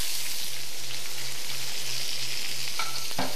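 Garlic and onion mixture sizzles steadily in a hot pan, a constant close frying hiss with a low rhythmic hum underneath and a couple of brief utensil clinks near the end.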